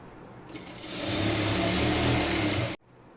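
A sewing machine stitches fabric for a child's crop top, running in one steady loud burst of about two seconds before stopping abruptly, with a quieter start before it.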